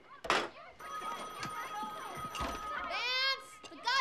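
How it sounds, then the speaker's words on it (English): A telephone rings steadily indoors during a frantic, shouting argument, its bell tone running through most of the moment beneath loud, overlapping voices. "The goddamn phone's ringing!"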